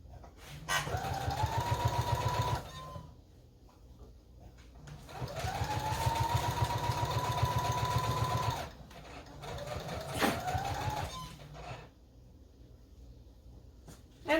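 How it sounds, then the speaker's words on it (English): A computerized sewing machine runs in steady bursts of rapid mechanical stitching on an apron, three runs of a few seconds each, close and clear with quiet pauses between. "It's a computerized sewing machine that I bought at Walmart."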